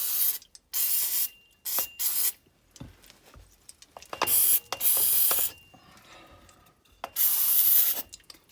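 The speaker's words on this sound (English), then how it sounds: "I'm gonna run some brake clean in there." Brake cleaner sprays onto axle bolts during removal of an AE86 SR5 third member. It comes in several close, loud hissing bursts of varied length, separated by short pauses and faint mechanical clicks.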